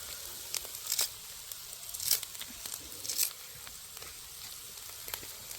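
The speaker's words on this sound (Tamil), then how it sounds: "கொஞ்சம் ரம்பையிலையும் சேர்த்து அதோட வதக்க போகிறோம்" Pandan leaves tossed into a pan for sautéing, giving a quiet, faint sizzle broken by a few sharp crinkling, rustling bursts as the leaves are stirred, close by with no talking.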